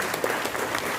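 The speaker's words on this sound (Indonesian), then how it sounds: "tepuk tangan untuk Pak Gubernur." Applause for Governor Ganjar Pranowo at a public meeting in Blora: a crowd claps in a continuous, fairly soft patter, steady and unbroken for about a second.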